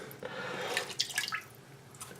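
Water sloshes and drips as a sponge scoops water out of a toilet tank during a Fluidmaster fill valve replacement, with irregular close splashes and trickles, then a soft knock at the end.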